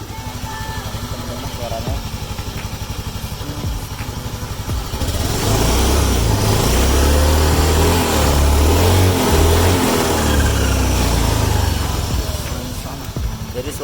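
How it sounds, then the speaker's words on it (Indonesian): An automatic scooter's engine with a noisy, whining CVT, revving loudly and steadily up close for the second half after someone speaks briefly over its quieter running. "jadi suaranya sangat berisik ya teman-teman, sangat kayak ada suara nging gitu"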